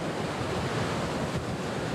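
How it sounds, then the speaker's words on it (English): Steady wind blowing by the open sea near large steel gates, a constant roaring rush with microphone buffeting, loud and unbroken throughout. "Oh, it's windy."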